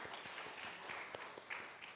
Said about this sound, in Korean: 한번 서로 박수 한번.